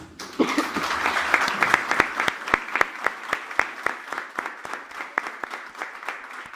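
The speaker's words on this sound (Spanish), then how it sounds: "¿Cuánto le dan un aplauso a Jesús?" A church congregation breaks into sustained applause for Jesus, dense clapping at first that thins into slower, distinct claps, fairly close and filling the room with no talk over it.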